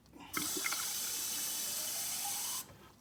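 Steady running water from a hose rinsing a removed part of a Vaillant ecoTEC pro gas boiler during servicing, a continuous close gush lasting about two seconds that starts and stops abruptly, with no talk.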